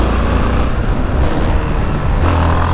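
A Yamaha XT660 single-cylinder motorcycle revs hard as it pulls away into a wheelie, a loud, close engine roar sustained throughout with a brief rise in pitch near the end, no talking over it.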